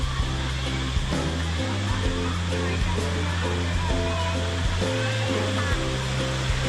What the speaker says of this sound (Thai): คลิปนี้พามาเล่นน้ำอยู่น้ำพุทับลาว